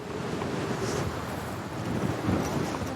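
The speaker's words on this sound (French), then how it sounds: "Près de 100 km/h de vent." Strong gusts of near 100 km/h wind roaring at the top of a lighthouse on Rügen island by the Baltic Sea, a steady broadband rush with surging swells, loud and continuous with no voices.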